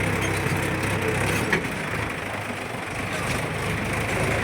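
A tractor engine rumbles nearby as it arrives, a continuous low idling drone with a steady, even loudness and no clear speech over it.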